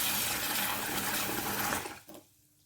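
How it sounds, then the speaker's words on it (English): Cold tap water runs into a saucepan in a loud, broadband splashing rush for about two seconds, then cuts off abruptly, leaving a quiet trickle and near silence. "I'm going to run the cold water into the saucepan"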